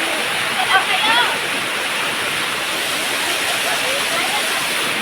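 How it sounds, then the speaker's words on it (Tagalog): Steady, full broadband rush of an outdoor waterfall at Little Hawaii Falls, continuous and close, with a brief voice and faint shouts rising over the roar near the start. "Waterfalls."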